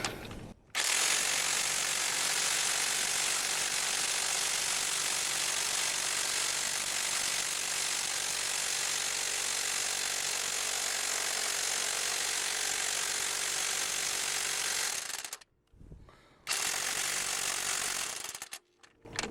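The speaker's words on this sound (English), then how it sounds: "if it doesn't break it loose just with the electric impact" Harbor Freight 61173 half-inch electric impact wrench hammering on a cold Honda crankshaft bolt, a loud continuous rattling burst of about fifteen seconds that stops briefly, then a second shorter burst follows.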